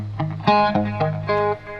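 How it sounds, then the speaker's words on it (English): Electric guitar with reverb, echo, flanger and a little gain plays a short run of notes, each note ringing with a swirling, echoing tail and distorted edge. "you can kind of hear that reverb and that echo, and it makes the flanger stand out."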